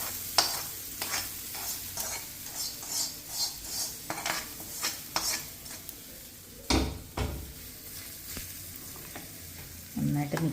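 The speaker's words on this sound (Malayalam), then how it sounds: "മിക്സ് ചെയ്തെടുക്കാം." Tomato pickle cooked in oil is stirred and mixed in a pan, giving a steady rhythmic run of spoon scrapes and clanks against the metal over a soft sizzle, with one louder knock partway through.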